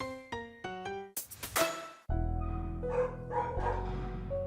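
A dog barks repeatedly, with a quick run of short yaps and then louder, fuller barks and whines, heard alone and close.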